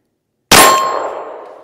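A single sharp report from a Glock 19 pistol firing a CorBon Urban Response 100 grain +P 9mm round over a chronograph, loud and close, with a ringing decay trailing off.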